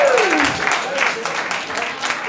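A lounge audience claps and cheers for phone-banking volunteers at a political campaign gathering, a burst of dense applause that stays steady for a couple of seconds, with a rising voice at the very start.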